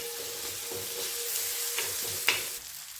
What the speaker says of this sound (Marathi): तेल टाकल्यानंतर व्यवस्थित असं परतून घ्यायचं.